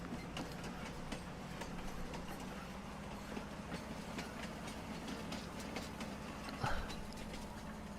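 A train running in the Farming Simulator 19 video game on the Swiss Future Farm map, a steady rumbling drone with faint rhythmic clatter throughout and a brief louder knock near the end.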